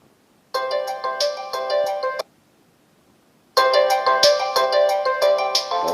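Blackview Tab 12 tablet alarm tone preview, a bright repeating electronic melody played in two loud bursts with a short silent gap between them, with no talk.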